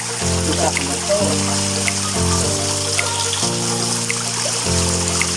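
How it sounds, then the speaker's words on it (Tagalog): Cold spring water flows from a crack in the mountain rock in a rural province, a steady close rushing wash that continues throughout alongside a layer of stepped tonal sound. "Yan, bukal galing sa bundok. Galing sa biak na bato."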